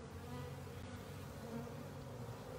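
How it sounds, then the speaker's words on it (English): Worker honey bees swarm around a hive at a zoo exhibit, making a steady, close, low droning hum that fills the whole stretch without pause, with a faint tick at the very end. "Look at all these worker bees with pollen on them."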